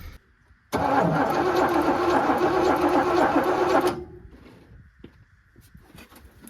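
An old $300 truck engine turns over at close range. A loud, steady cranking whir runs for about three seconds, then cuts off and leaves a quieter rumble and faint knocks.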